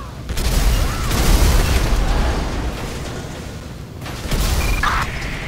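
A gas tanker blows up in GTA 5 with a heavy booming blast followed by a long rumbling roar of fire and debris, then a second surge of noise near the end, with faint radio chatter underneath.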